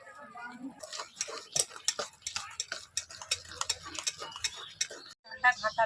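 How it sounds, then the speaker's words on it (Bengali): Ground lentil batter for dahi vada is beaten with a hand blender in a bowl, making a quick, rhythmic run of clacking, ticking strokes, and a brief voice sounds near the end. "একটা ব্লেন্ডার নিয়েছি তো ব্লেন্ডার দিয়ে ভালো করে ঘাঁটিয়ে নেব"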